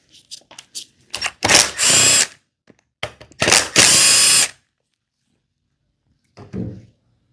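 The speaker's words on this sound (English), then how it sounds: "You don't need a drill to do this, but that's what I'm going to be using." Power drill with a T27 bit removes screws from an Echo trimmer housing, loud close whirring bursts, two long runs with short blips between and a brief rattle near the end.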